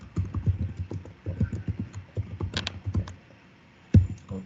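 Rapid clicking of computer keyboard keys during a coding session, a steady burst of typing close to the mic with a short pause near the end and one sharper final keystroke.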